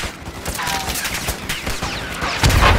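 Scattered gunfire in Call of Duty: Modern Warfare II, sharp cracks rolling through a busy battle scene and building to a heavier, louder burst at the end.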